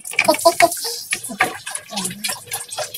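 Clean, drinkable well water fetched from a neighbour's well is poured out for washing rice, giving close, irregular splashing and gurgling bursts that rise and fall over a few seconds.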